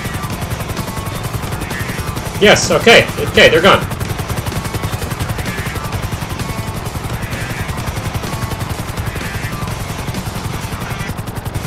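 A helicopter in GTA 5 Online during a heist drones steadily throughout, with a short burst of gunfire early on while people talk over it.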